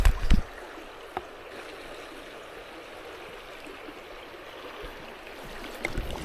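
Shallow, fast-flowing river water in the northern mountains, a steady soft rushing wash with a few close knocks and splashes near the start, continuous and fairly quiet with no voices.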